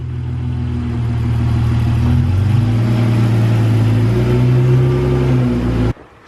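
A BMW E46 323ci drift-build car on freshly installed coilovers rolls back into place under its own power, its engine giving a steady, fairly loud low hum that rises slightly midway before cutting off abruptly near the end.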